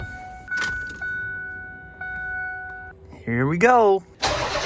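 A 7.3 Powerstroke diesel truck with a new exhaust starts up. Steady warning chimes sound first, then a short, rising starter crank leads into the engine catching at the end. A voice speaks briefly before the crank.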